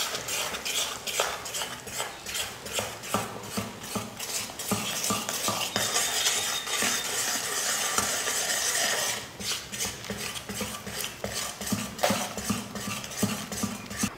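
Gram flour is stirred into sugar syrup in a pan over low heat for ghee Mysore pak, a steady, rhythmic scrape and clink of a spoon against metal, close and moderately quiet, with no voices.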